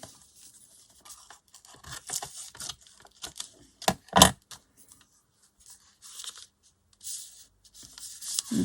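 Paper being trimmed with scissors while making a junk journal tuck pocket, a series of close, crisp snips and rustles spread through the quiet, including one sharper, louder cut near the middle, with no talking.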